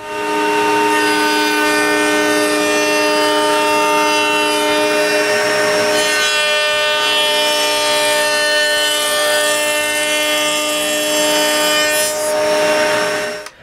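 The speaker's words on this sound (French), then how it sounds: "Sur la table de toupie, je mets un profil arrondi d'un demi-pouce sur le dessus" A router table cutting a half-inch round-over profile along the top of a wooden bedside table part, a loud steady high-pitched motor whine with a shifting cutting tone as the wood passes the bit, with no talking.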